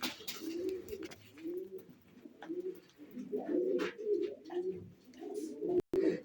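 Tumbler pigeons coo softly and repeatedly in a steady, rolling rhythm, fairly close but quiet, with a faint background hiss and a brief click near the end.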